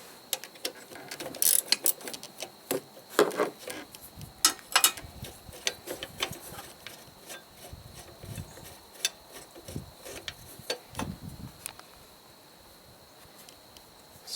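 Hand ratchet backing out a 3/8 bolt on a carburetor during diaphragm replacement, irregular bursts of close, sharp clicking and metallic ticks separated by brief pauses, with no talking.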